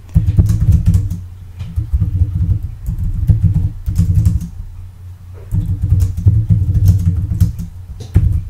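Rapid keyboard clicks in uneven bursts and pauses, close by, over a low rumbling background hum.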